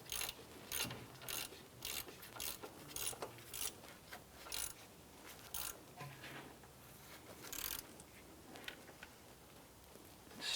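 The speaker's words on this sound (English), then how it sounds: "Go ahead and tighten up our upper pivot bolt here." Hand ratchet tightening the upper pivot bolt on a 2001-2005 Honda Civic, a steady run of rapid clicking strokes at close range with no talk.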